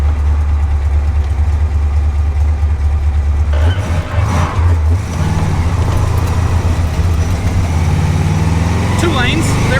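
A car with a welded differential idles and then pulls through a U-turn on the street, its mid-pitched engine steady and loud up close, with a voice talking over it and some scraping tire noise near the end.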